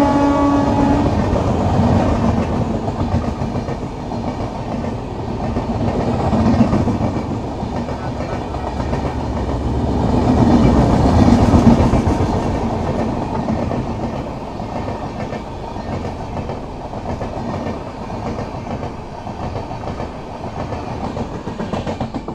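The Chennai–Visakhapatnam Express passes close by as a loud, continuous rumble of wheels on rails with rhythmic clickety-clack, swelling slightly midway and holding steady throughout with no voices.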